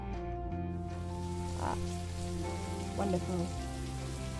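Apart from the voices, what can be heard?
rain falling in the video game Necrobarista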